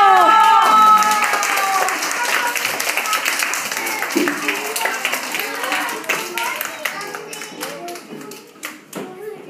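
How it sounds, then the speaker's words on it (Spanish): Children's holiday guitar and piano course showcase audience clapping, a burst of applause that starts loud and gradually thins into scattered claps, with voices talking over it. "un fuerte aplauso."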